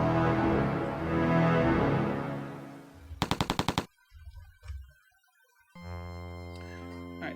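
In the Star Control 3 space game, a beam weapon fires a short, rapid burst of buzzing pulses, followed by sparse blips and sustained tonal game sounds.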